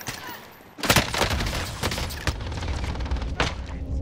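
Bursts of rifle fire crack out in a Call of Duty Warzone firefight, several sharp shots and short volleys at close range after a quiet start, with a dense busy battle backdrop.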